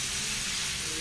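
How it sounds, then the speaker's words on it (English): Vegetables stir-fry in a pan, a steady loud hiss and sizzle running without pause through the short moment. "So we allow this to stir fry"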